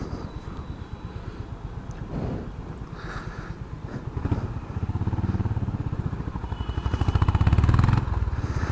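A Honda CB350 RS motorcycle engine and exhaust throb steadily under wind noise while riding, the pulsing beat growing louder and deeper toward the end.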